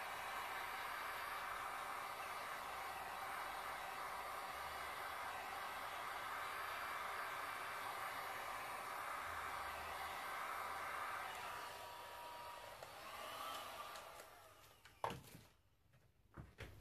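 A heat gun blows hot air steadily onto poured resin art with gold glitz, a continuous broadband whoosh that holds for about eleven seconds, then tapers off and stops near the end, leaving a few faint clicks.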